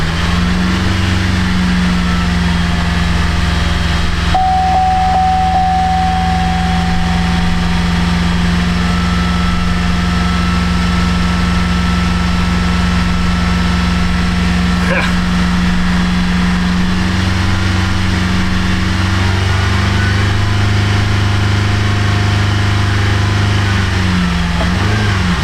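A 2011 Buick Enclave engine with a fault that keeps it from staying running, held at raised RPM: a steady, close mechanical hum that drones on alone, dropping slightly in pitch toward the end.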